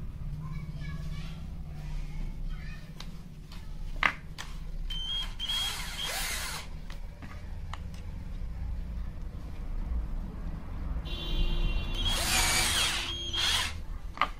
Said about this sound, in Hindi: मेरे पास जो है एक ही कॉर्डलेस स्क्रू ड्राइवर है